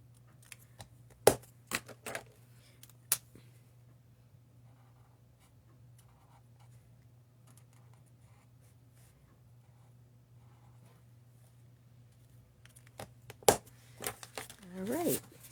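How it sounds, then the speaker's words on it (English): A marker colors a paper card, with faint scratchy strokes in short bursts at the start and end and a long quiet stretch over a low steady hum between them. "I'm just coloring it all the same as I did on the envelope, on the card."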